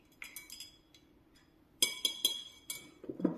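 A paintbrush clinks against the inside of a big drinking glass of water, several light, bright taps in two quick bursts, close and fairly crisp, with no talking.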